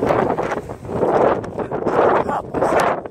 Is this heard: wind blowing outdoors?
yes